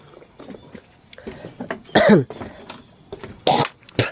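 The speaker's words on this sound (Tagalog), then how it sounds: "Inuubo talaga ako." Several harsh coughs and throat-clearing sounds, close and loud, scattered across a few seconds with quiet breathing between them.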